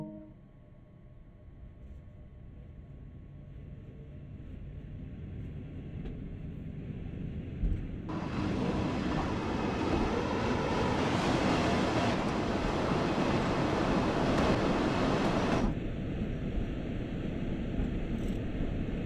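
Simulated DB BR 143 electric locomotive running in Train Sim World, a steady broadband rumble and hiss that swells louder midway as the locomotive picks up speed, then settles into a sustained drone.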